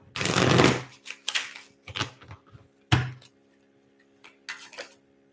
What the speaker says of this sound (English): And we're going to grab some Archangel cards.